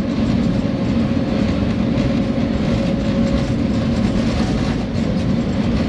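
Pakistan Railways train hauled by a locomotive, running steadily with a dense, continuous rumble and rolling wheel noise heard close from on board, no voices.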